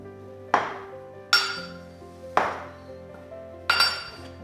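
Metal porridge pot set down on a marble countertop, four distinct ringing clinks spaced about a second apart, each decaying with a bright metallic resonance, close and clear.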